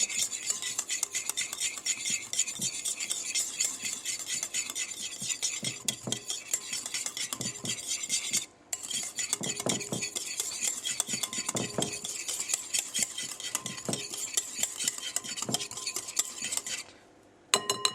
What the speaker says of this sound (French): je mélange le yaourt donc au lait que je viens de mettre à l'intérieur